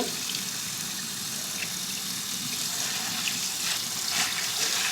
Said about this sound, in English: I'm just going to turn the water on and rinse them to be sure that they are clean